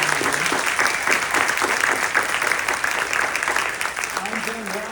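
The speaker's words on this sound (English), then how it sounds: "give them a round of applause and let them know that you are here" A crowd at a mayoral candidate forum applauds for the radio audience, a loud, sustained round of clapping that runs throughout with faint voices mixed underneath.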